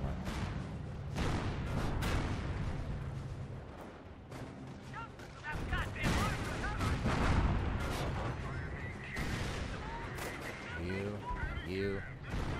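Artillery fire and a bombing run boom in the World War II strategy game Company of Heroes, with dense, loud blasts and rumbling explosions throughout and players talking over the gunfire.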